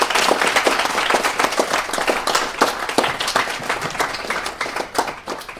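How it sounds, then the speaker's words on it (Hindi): Crowd of students and guests clapping at a school celebration of Ahilyabai Holkar's 300th birth anniversary: loud, dense, sustained applause filling the room, gradually thinning toward the end. "तो जोरदार तालियां उनके व्यक्तित्व के लिए।"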